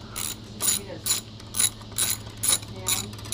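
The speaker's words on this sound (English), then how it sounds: "My wife says that sound is cicadas." Cicadas in Texas at dusk, heard as a rhythmic, pulsing high buzz that swells and fades about twice a second over a steady low hum, with no talking.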